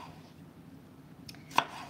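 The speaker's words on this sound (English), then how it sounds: "this is a purple bell pepper that we're chopping up right now." A purple bell pepper being chopped with a knife on a board during home dinner prep: a couple of sharp, close knife strikes near the end over a quiet kitchen background.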